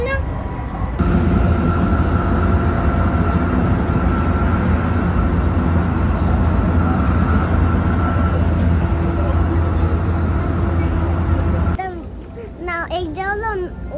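Sky train in Saitama, Tokyo, Japan, heard from on board as a loud, steady rolling rumble with a constant mechanical hum that drops off near the end as speech takes over.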